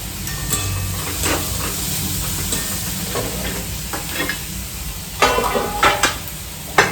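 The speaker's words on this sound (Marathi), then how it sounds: "जिरे मोहरी टाकली हळद टाकणार आणि त्याच्यामध्ये ही बारीक केलेली चपाती टाकणार आहे" Crumbled chapati being stir-fried with cumin, mustard seeds and turmeric in a hot pan, a steady sizzle with repeated scraping strokes of the spatula and a few sharper clatters near the end, no voices.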